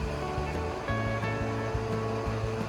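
A concrete pump works on a suspended garage floor pour, its nozzle delivering concrete with a loud, churning rush and rhythmic low pulsing thumps from the pump running beneath.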